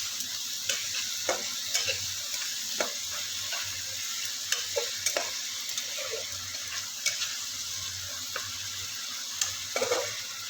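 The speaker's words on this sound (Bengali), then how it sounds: "এবার সব কিছুকে ভালো করে মিশিয়ে নেব" Spices and ingredients, including Kashmiri chili powder, stirred together in a sizzling pan for an egg-potato curry, with a steady frying hiss under repeated scraping strokes of a spoon against the pan.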